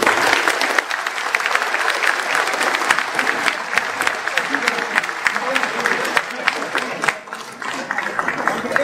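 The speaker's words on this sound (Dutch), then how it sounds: "Eén keer een applaus voor Vera Bergkamp." A crowd at a Forum voor Democratie party members' day claps loudly and continuously for Vera Bergkamp, dense close applause with a slight dip near the end, and voices murmuring underneath.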